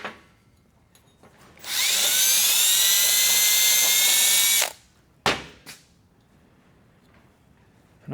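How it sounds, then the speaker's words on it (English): Power drill whirring at high speed in a workshop, a loud steady burst of about three seconds that stops abruptly, followed by two brief clicks or short pulses and then near silence. "I prefer to use the drill"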